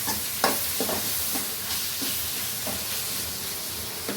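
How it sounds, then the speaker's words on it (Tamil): Chopped tomatoes stirred into hot oil in a pan for a sardine curry, a continuous sizzle with repeated spoon scrapes and knocks at an uneven rhythm. "போட்டு நல்லா கிண்டி விடுங்க"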